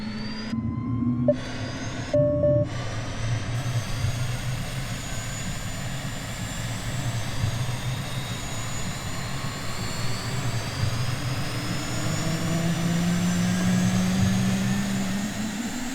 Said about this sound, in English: the startup with engine sounds